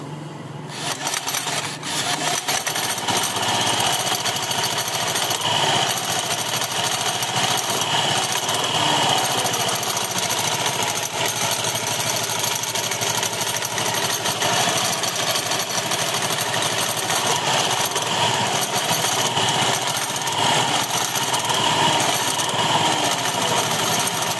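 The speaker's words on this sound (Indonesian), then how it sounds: "Suaranya kemerincing di area belakang ya sini ya, dan klek-klek di area depan." Continuous metallic rattling and jingling from a running scooter's noisy CVT, jingling at the rear and clicking at the front, steady and fairly loud throughout, with a busy mechanical clatter and no voices.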